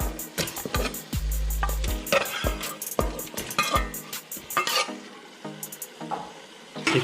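Chicken pieces dropped into a pot of fried spices for Arabian kabsa, followed by a spoon scraping and stirring with clinks against the pot and a low sizzle, irregular and close.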